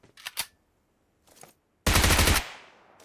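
Gunfire in PUBG Mobile while shooting at enemies: two quick bursts of shots, a faint short burst, then a loud sustained automatic burst that rings out and fades.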